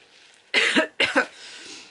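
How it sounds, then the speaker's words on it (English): Two sharp coughs in quick succession, close and loud, followed by a soft breath in the quiet. "Now I'm coughing because there you go as well."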